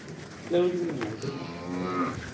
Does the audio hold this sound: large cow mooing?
yes